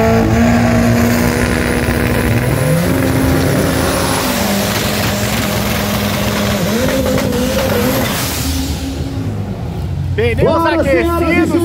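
Drag race cars at a strip launching and revving, including a front-wheel-drive VW Gol in the unrestricted class, loud sustained engine drone with rising pitch sweeps and a hard acceleration burst near the end, with a commentator talking throughout.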